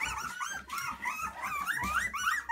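High, thin whimpers and squeaky whines from young puppies, overlapping and continuous, close by with no talking.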